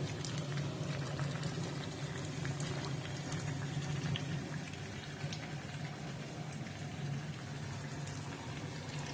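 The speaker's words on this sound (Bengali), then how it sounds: "আলুটা একটু ভিতরের দিকে ঢুকিয়ে দিচ্ছি যাতে ভালো করে সেদ্ধ হয়ে যায়" Chicken curry with potatoes bubbles in a pot on low heat, a quiet, continuous simmering hiss with no clear breaks.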